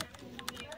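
Quick, light clicks from someone typing on a computer keyboard, a short burst of several close keystrokes over faint background noise.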